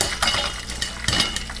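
Oil sizzling in a pot on an alcohol stove while popcorn is made in a tool shed: a close, steady crackling hiss broken by a few sharp metallic clinks, with no talking.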